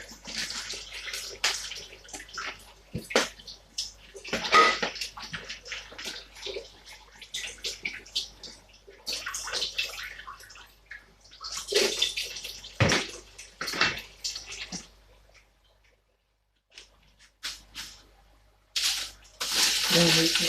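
Tap water runs in irregular gushing bursts while something is rinsed during cooking of an aubergine stew, splashing on and off with brief quiet gaps between streams.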